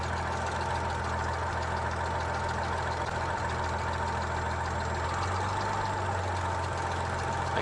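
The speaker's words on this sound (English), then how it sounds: "Bring the engine up to about 2/3 power." A light aircraft engine runs up to about two-thirds power, a steady loud drone with a rough, throbbing low end that deepens slightly partway through, continuous and close with no talk.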